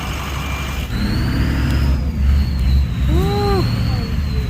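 A Duramax diesel truck engine labours hard with a deep, constant rumble and roar, close and loud, while a voice briefly calls out over it.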